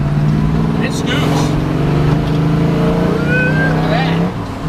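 A 1968 Chevrolet Camaro RS Z28 with redline tires drives by with a loud, deep engine rumble that holds steady and then shifts in pitch, and a person talks over it.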